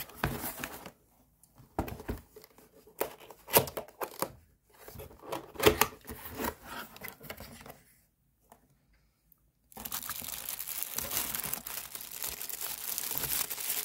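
Intermittent crinkling and tearing of the packaging of an HP C2710 wireless keyboard and mouse combo in bursts, then a pause, followed by a steady rustling hiss; no speech.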